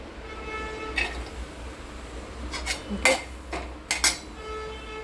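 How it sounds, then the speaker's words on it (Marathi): Chopped onion tipped into a pan for methi bhaji with toor dal makes a few short clattering bursts and metallic clinks over a quiet background, with no one speaking. "प्रथम आपण याच्यामध्ये कांदा टाकणार आहोत"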